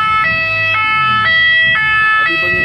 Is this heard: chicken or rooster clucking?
no